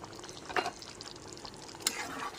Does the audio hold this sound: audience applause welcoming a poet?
no